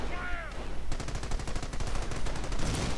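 A heavy machine gun firing behind barbed wire in a strategy video game, a fast, steady stream of loud shots that follows a brief voice-like tone at the start.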